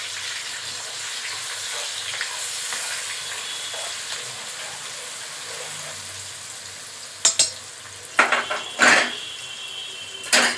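Chopped onion frying in a pan for coriander chicken, a steady soft sizzle throughout with a few louder clinks and scrapes of stirring near the end.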